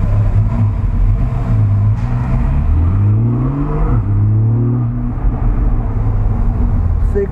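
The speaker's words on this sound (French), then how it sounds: "Une 911 Targa. Donc Porsche 4S. Porsche 911 Targa." Porsche 911 Targa 4S, a four-wheel-drive sports car, heard from inside while driving: a steady loud engine drone with rising and falling pitch as it revs through gears, continuous throughout.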